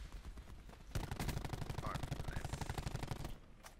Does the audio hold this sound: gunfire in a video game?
yes